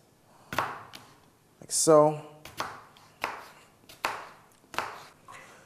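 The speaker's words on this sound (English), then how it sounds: "So using a small knife, just take off the sides." Sharp knife cuts through an apple, about six evenly spaced chops on a board, close up, with a brief spoken word early on.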